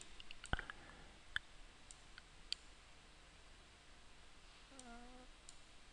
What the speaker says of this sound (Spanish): Apretamos más del Shift.